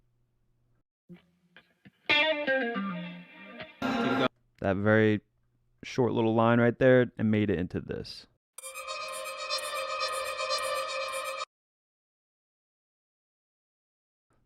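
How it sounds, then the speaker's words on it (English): Someone talks briefly, then a bright, high-pitched processed guitar sample rings out alone for about three seconds before stopping. "The very high-pitched noise you hear there is the guitar that he sampled"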